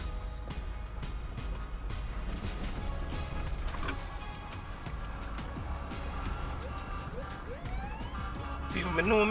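An ambulance siren wails at a distance, its rising tones threading through steady road and engine noise, heard from a car driving at night between Bull Bay and Kingston, Jamaica.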